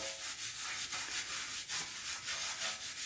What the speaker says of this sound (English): you have to scrub the item